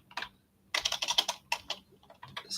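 Fingers type a command on a computer keyboard while setting up an AlmaLinux server, with a brief keystroke, a pause, then a rapid burst of clicky presses and a few final taps, close and clear.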